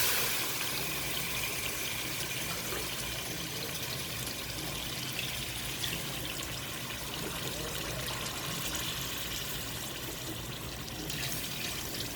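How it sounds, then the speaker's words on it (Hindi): Water poured into a pot of rice for pulao, a steady broad splashing pour that runs continuously and fairly loud for the whole stretch in a home kitchen. "3 गिलास में पानी के डाल दूँगी"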